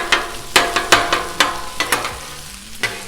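Corned beef hash sizzles on a Blackstone flat-top griddle while a metal spatula scrapes and chops through it in a string of sharp, irregular clacks over a steady frying hiss, close and alone.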